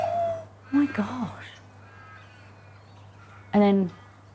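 Ravens, locally called crows, give a few brief harsh caws at a distance over faint background hum and quiet outdoor ambience.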